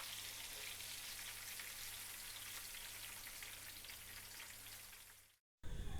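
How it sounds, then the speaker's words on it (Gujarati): Tomato puri fritters (tomato bhajiya) deep-frying in hot oil give a steady, dense sizzle and crackle throughout, close and loud, cutting off briefly near the end before resuming. "હવે બધી ટમેટા પૂરીને તળી લઈશું"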